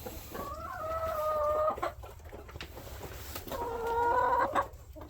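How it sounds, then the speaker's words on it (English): A hen in a homestead chicken coop makes two loud, drawn-out fussing clucks, each lasting over a second, close by with a short gap between them. "That chicken is fussing at me."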